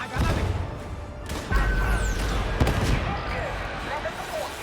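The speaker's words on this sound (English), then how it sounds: "Throwing grenade!" A grenade thrown in the video game Darktide bursts amid a steady wash of gunfire and combat noise, with sharp thuds and crashes in a dense, continuous battle din; a voice talks over it.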